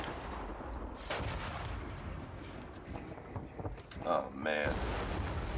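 Empire: Total War naval battle, with several deep booms of cannon fire over wind and sea noise; someone speaks briefly near the end.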